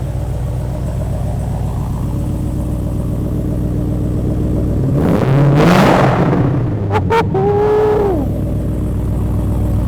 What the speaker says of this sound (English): Before you kill it, can we get a rev?